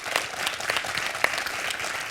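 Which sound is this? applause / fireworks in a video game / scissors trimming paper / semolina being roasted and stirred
applause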